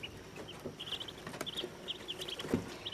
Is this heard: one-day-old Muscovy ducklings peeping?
yes